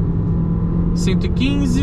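A Fiat Toro Freedom 2026 at full throttle at highway speed on an uphill stretch, its engine a steady loud drone with a rising whine beneath someone talking.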